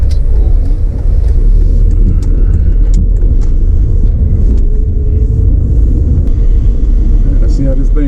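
A classic Mercedes W124 rolls along the road with a loud, steady low rumble of engine and road noise from inside the cabin, and a voice talks over it.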